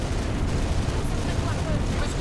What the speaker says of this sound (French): Une autre tourelle détruite.